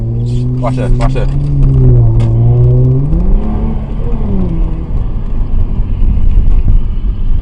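A car engine revs hard on a street in Harbor East, Baltimore, its pitch climbing and dipping as the throttle is worked, loud and close with wind buffeting and voices shouting over it.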